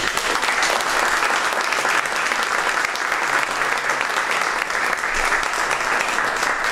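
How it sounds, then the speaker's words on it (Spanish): Steady, dense applause from a large audience at a political gathering, honoring local party leaders such as Christian Democrat and Communist Party representatives; loud and continuous throughout with no pauses. "Les voy a pedir un aplauso también para cada uno de ellos"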